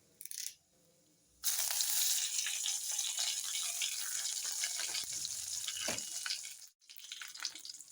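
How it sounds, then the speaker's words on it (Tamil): Urad dal and chana dal crackle and sizzle in hot oil after mustard seeds go in, a steady dense frying hiss that starts abruptly after a brief quiet moment and continues close up. "உளுந்து, கடலப்பருப்பு நல்லா பொரி வருது"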